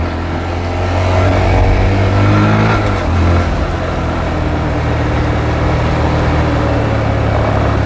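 A small Honda Grom motorcycle accelerating on a ride around Thailand, engine droning steadily with a pitch shift near the middle as it changes gear, under loud continuous wind rush.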